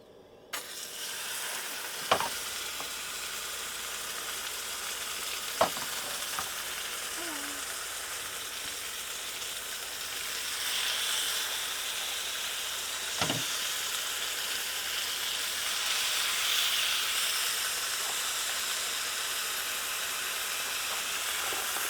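Steaks sizzle in a pan at an outdoor camp kitchen while overlanding in Colorado, a steady broadband hiss running throughout with a few sharp clacks of utensils early on.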